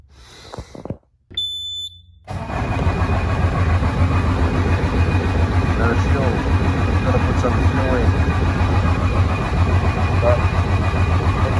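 A Bobcat S175 skid-steer loader with a newly replaced 12V battery gives a short warning beep and a cranking stutter, then its engine catches and settles into a loud, steady diesel idle that holds to the end.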